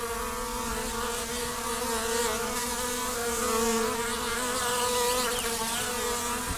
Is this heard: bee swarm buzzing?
yes